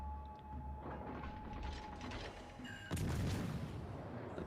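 Naval gunfire rumbles in a World of Warships: Legends battle, low booms and mechanical clatter running steadily, with a heavier, louder salvo bursting in near the end.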